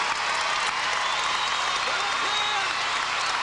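A gymnastics arena crowd stands and applauds, a dense, steady wash of clapping filling the whole moment at even loudness, with faint voices mixed in.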